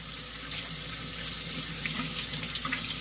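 A kitchen tap runs steadily into a sink as hands are washed, a close, even rush of water with small splashes toward the end, no speech.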